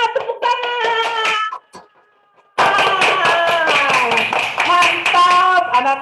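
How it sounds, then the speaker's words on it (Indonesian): Children and adults clap at a church gathering, sharp hand claps mixed with singing and voices, breaking off into a brief near-silence before resuming fuller. "Selamat, tepuk tangan."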